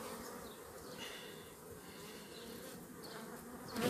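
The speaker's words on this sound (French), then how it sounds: "c'est tellement chouette de revoir les abeilles" Honey bees buzz around an opened hive during a first spring inspection, a steady dense drone that swells and fades in soft waves, close and continuous with no voices.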